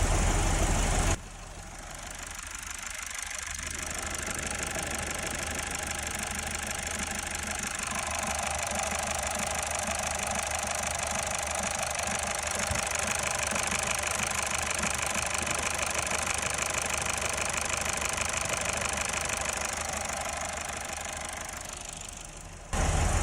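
A Mazda 6 Skyactiv 2.2 diesel engine idles with a steady low rumble and vibration, shaking while the clutch is pressed, running continuously and fairly close without any talk.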